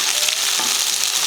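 Onion and dried red chillies fry in a pan with a loud, even, close-up sizzle that holds steady throughout, with no voices.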